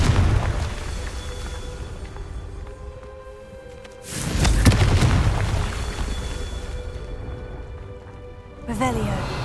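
Two deep booms of the Confringo explosion spell in the Hogwarts Legacy video game, one loud blast midway and a second near the end, over a rumbling game soundscape with a voice speaking.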